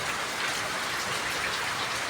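Steady rain falls around a house with flower-filled garden grounds, a dense, even hiss of drops on surfaces that holds constant throughout, fairly loud and with no talking.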